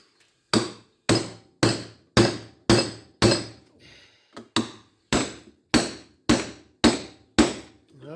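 Iron sheets from a large transformer core being cut or struck apart, heard as a dozen sharp metallic impacts in a steady rhythm, close and loud, each ringing briefly, with a short pause midway.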